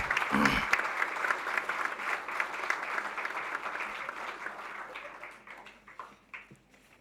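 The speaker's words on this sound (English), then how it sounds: "we should have another round of applause for this great keynote address" Audience applause after a keynote address at a Universal Oneness Day 2013 event, loud at first and then slowly thinning out over several seconds.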